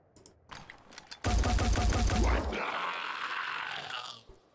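A rapid burst of automatic gunfire from the video game Phoenix Point, aimed at an enemy's gun arm, rattles loudly for about a second, then fades into a hissing, ringing tail, with brief game noises before it.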